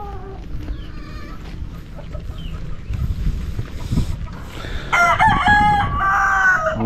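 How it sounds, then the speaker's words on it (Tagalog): A rooster crows loudly and near, its calls ringing out clearly over steady outdoor rustling and a background of chickens at a farm in Arayat, Philippines. "Mga manok."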